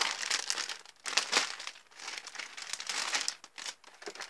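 Trading card samples have their crinkly plastic packaging torn open and handled up close, a continuous bright rustling and crackling with sharper crinkle bursts and no talk.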